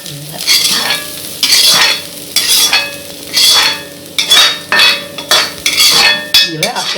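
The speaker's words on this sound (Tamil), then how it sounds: "இந்த கேரட்டு பீன்ஸு இதெல்லாம் இந்த மாவில் போட்டு நாங்கள் வதக்கணும்" Carrots and beans being stirred and sautéed in a pan with batter for vegetable idli, a loud, close rhythm of scraping spoon strokes and soft sizzling, repeated about every half second.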